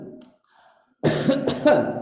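A single loud, close cough bursts out after a brief faint murmur and a near silence, rough and throaty, during a religious study gathering.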